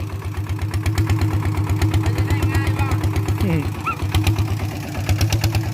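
A farm plough tractor's engine chugs close by in a loud, even, rhythmic thumping with slight swells in pace, while brief voice sounds rise over it.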